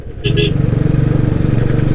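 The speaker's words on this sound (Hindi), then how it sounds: "इस समय तीसरे गेयर पे भी डाउन गेयर मांग रही है बुलेट" A Royal Enfield Bullet motorcycle labours uphill in third gear on a mountain road toward Jalori Pass in Himachal, its engine thumping in a steady low, rhythmic pulse close by, with a brief clatter at the start.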